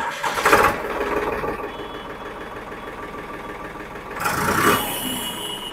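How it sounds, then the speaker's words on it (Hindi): A tractor engine cranks and fires, then settles into a steady idle close by, with a second revving burst near the end; no talking. "अभी API वाली की आवाज़ सुनते हैं ट्रैक्टर कैसी है"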